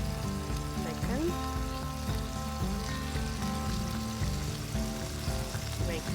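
Bacon frying in a pan outdoors for homemade burgers, a dense continuous crackling sizzle at steady loudness, with a tonal background hum running underneath throughout.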